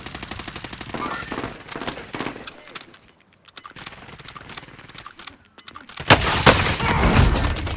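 Gunfire in a battle royale video game: rapid bursts of automatic fire crackle throughout, fading at moments, then a louder, denser barrage near the end, with players' voices talking under the shooting.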